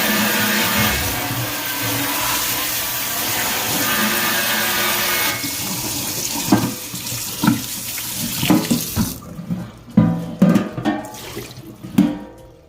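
Water runs steadily from a tap into a metal turkey fryer tin for the Butterball XL fryer, a broad continuous splashing rush that later breaks into irregular sloshes and clanks as the tin is rinsed and tipped.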